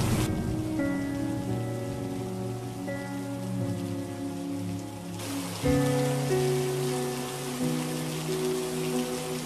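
Heavy rain pouring down in a steady dense wash, overlaid with sustained musical tones that shift partway through, no speech.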